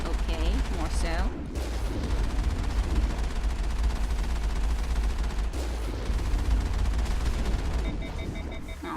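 Sustained rapid gunfire in Mass Effect fills the scene, continuous and dense with brief gaps, loud and close against a rumbling game backdrop.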